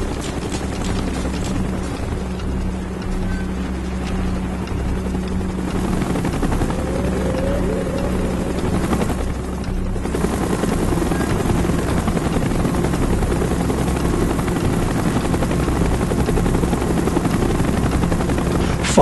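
A helicopter in Call of Duty Black Ops drones with continuous heavy rotor noise, briefly dipping midway before resuming loud and close, with faint voices under it.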